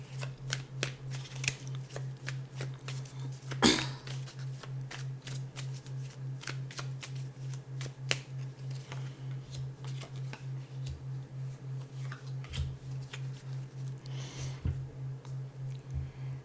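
Tarot cards being shuffled and drawn during an ASMR pick-a-card reading: soft, close, steady papery riffles and taps with occasional sharper card snaps, no talking, over a faint constant low hum.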